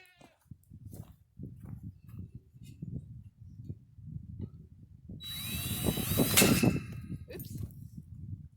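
A power drill drives self-tapping screws into a metal gate pole, with a loud whirring, grinding burst after several seconds of faint clicks and handling noises.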